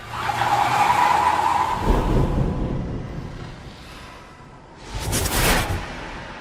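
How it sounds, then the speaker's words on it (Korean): Tires squeal and skid loudly for a couple of seconds, then the noise fades before a second short rushing screech sweeps past. "다시 도전하는 혜자, 그리고 가까스로 차량을 피하고"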